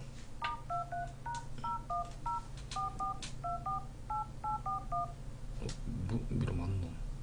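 A phone number is dialed by touch-tone, giving a run of about twenty short, evenly paced two-pitch beeps. People chat and react in the background underneath.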